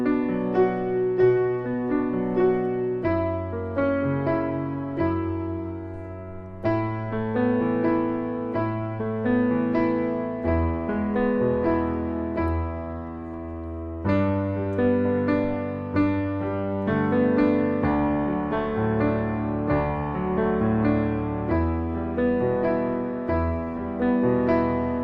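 Solo piano plays the rolling sixteenth-note arpeggio pattern of the intro, steady and moderately loud with sustained bass notes under the broken chords, no voices.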